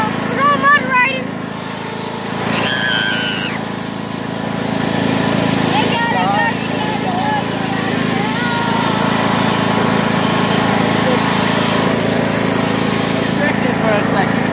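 A riding lawnmower engine drones steadily and loudly as it drives through mud, a constant close rumble with a slight rise in pitch, while people talk and shout over it.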